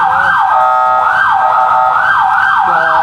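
An ambulance siren wails loud and close, sweeping up and down in a steady repeating cycle of about one per second with nothing else heard.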